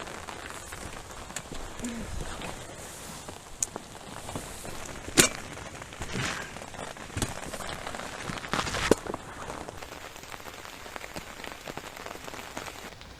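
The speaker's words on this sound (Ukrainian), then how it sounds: "П'ять пішов дощ. Ховаємося." Light, fine rain falling on a wild riverbank during a fishing trip, a soft continuous patter with a few sharper drops and rustles, no voices.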